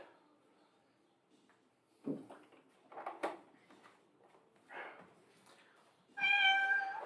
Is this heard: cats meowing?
yes